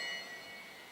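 The final-lap bell rings at a track cycling race at the Oceania Track Cycling Championships in Brisbane, a bright sustained metallic ringing that slowly fades amid arena noise.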